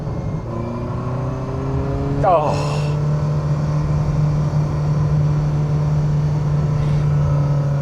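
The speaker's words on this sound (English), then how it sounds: "The sound of this engine is very thrashy, very high-pitched." A Ferrari Mondial's small-displacement engine drones steadily from inside the moving car, with a quick rising rev partway through; a short exclamation is heard.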